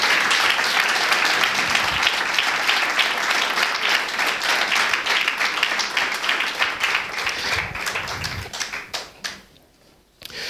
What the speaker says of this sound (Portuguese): Damos um aplauso para este Senhor maravilhoso.